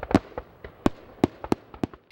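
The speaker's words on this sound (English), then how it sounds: "Celebrate the 4th of July holiday with the Shelby Township fireworks." Fourth of July fireworks at a township display pop and crackle in a quick irregular series of about eight sharp bursts, moderately loud with no voices over them.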